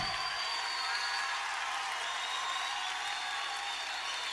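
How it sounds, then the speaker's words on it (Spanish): Congregation in a church service applauding, a soft, distant spread of clapping under sustained musical tones from instruments, the hands faint beneath the music. "aplauso al Señor"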